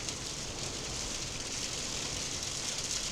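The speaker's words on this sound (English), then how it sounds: "As the hail comes down outside." Hail falls outside in a dense, continuous patter, a steady wash of small impacts heard at a moderate distance with no break.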